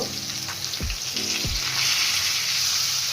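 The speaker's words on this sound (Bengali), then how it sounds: "মাছগুলোকে আমি এখন উল্টিয়ে নেব।" Hilsa fish pieces fry in hot oil with a strong, continuous sizzle up close, interrupted by a couple of dull knocks as pieces are flipped in the pan, after which the hissing swells louder.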